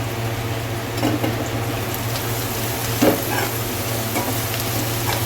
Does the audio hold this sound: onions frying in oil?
yes